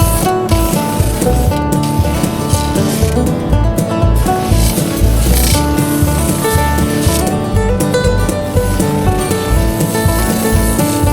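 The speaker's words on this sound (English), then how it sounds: "Getting it to shape and sand is what takes up the most work." Wooden intarsia pieces for brook trout and moose head projects are shaped and sanded by hand in a garage, a loud, continuous rasping scrub with rhythmic back-and-forth strokes and no voices.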